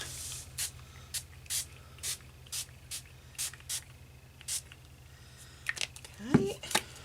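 A spray bottle fires a series of short, crisp hissing spritzes of colour spray onto an art journal page at a steady rhythm, followed by a few quieter rustles and taps.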